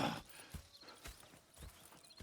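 Horses clip-clopping in Red Dead Redemption 2, steady hoofbeats at an even walking rhythm, fairly close but quiet, with no talk over them.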